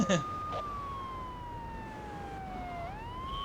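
A police car siren from Grand Theft Auto III: The Definitive Edition wails steadily, its tone gliding slowly down and then sweeping back up near the end, loud and alone after a brief bump at the start.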